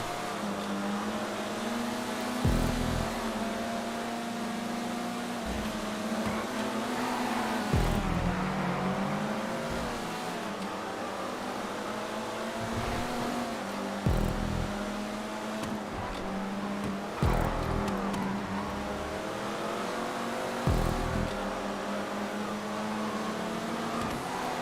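A Z-type sports car in GTA 5 races uphill, its engine roaring loud and close with repeated gear shifts, revving up and dropping in pitch again and again over a steady race-track drone.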